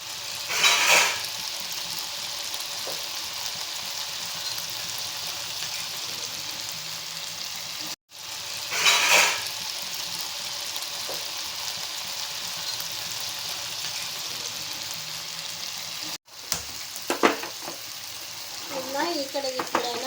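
Potatoes fry in oil in a pan with a steady, soft sizzle broken by louder crackling bursts and two brief cutoffs, and a voice speaks briefly near the end.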